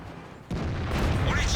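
A tank gun in World of Tanks fires a single shot that misses. One sudden heavy boom bursts in after a brief quiet lead-in, then rolls on as a rumbling tail while speech runs underneath.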